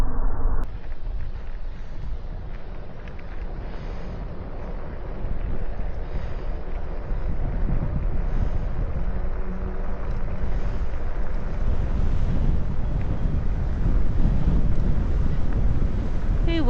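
Strong wind roars across the microphone during a fat-bike ride in bear country, a steady, loud broadband rush with buffeting that builds slightly toward the end, heard alone with no talking.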